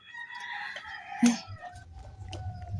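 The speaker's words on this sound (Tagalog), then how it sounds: "grabe itong mga manok ba?" Outdoors, a rooster crows in a long, drawn-out call while chickens cluck nearby, loud and close, with no talking.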